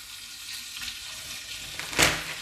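Bacon strips frying in hot vegetable oil in an Afghan kazan, a close, steady sizzle and crackle with a sharper spitting burst near the end.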